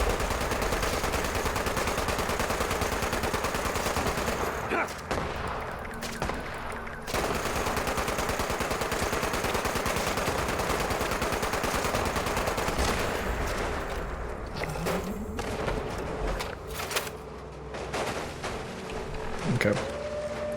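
Dense, sustained gunfire from the video game Fallout 76 rattles almost continuously at high volume, broken by a few short pauses, with a voice faintly present beneath the shooting.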